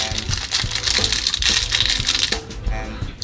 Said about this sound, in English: They're still wrapped. Let's unwrap one.